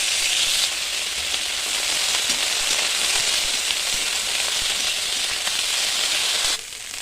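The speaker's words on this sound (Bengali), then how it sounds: "বকুলিটা প্রথমে ভেজে নিতে হবে, যেমন ফুলকপি ভাজা হয়" Broccoli, or green cauliflower, fries in a pan with a steady close hiss and sizzle that holds evenly, then drops off slightly near the end, with no voices.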